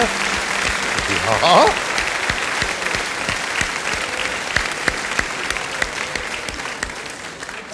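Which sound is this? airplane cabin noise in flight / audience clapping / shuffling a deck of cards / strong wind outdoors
audience clapping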